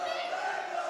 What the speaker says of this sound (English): cheering for Mendo. Very active crowd right now.